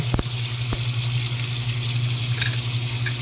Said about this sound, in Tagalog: So on ko muna yung faucet namin sa may CR.